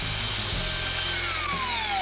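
A RYU RCG20V cordless grinder running at top speed cuts through iron about 1.5 mm thick, a steady loud high-pitched whine with harsh grinding hiss, the tone slowly dropping as the disc bites and loads up.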